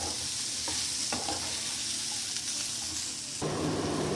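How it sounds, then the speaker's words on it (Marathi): Ingredients for matar paneer sautéing in a pan: a steady, loud sizzle and hiss throughout, with faint scraping stirs and a brief swell of frying noise near the end, no talking. "छान स्मूथ होईस्तोवर यांना छान परतून घ्यायचं"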